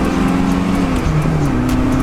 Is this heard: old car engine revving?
yes